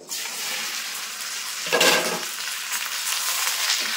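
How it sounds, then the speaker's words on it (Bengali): Jujube fruits drop into hot oil with bay leaves, setting off a steady sizzle that swells into a louder burst of spitting and crackling partway through and then settles back to a continuous close fry. Nobody speaks. "এই যে কুলগুলো ফাটিয়ে রেখেছিলাম আমি, সেই কুলগুলো কিন্তু তেলের উপর দিয়ে দেবো"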